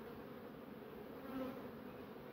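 Honeybees swarm over a hive frame lifted out during an early-April colony inspection, a steady close-up drone of many wings humming without pause, swelling slightly partway through, with no talking.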